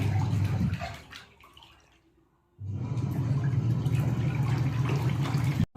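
Water rushes into a Godrej top-load fully automatic washing machine, a loud steady gush that fades briefly to near silence, then surges back strongly and continues until an abrupt stop.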